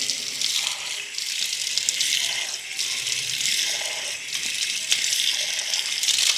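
Steady hiss of tap water running from a faucet into a sink during wudu ablution, continuous and close, with slight shifts as hands move through the stream.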